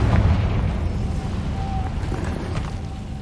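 A Confringo fire spell explodes in Hogwarts Legacy combat, giving a heavy rumbling boom that stays as a sustained low roar through the whole stretch, with no voices.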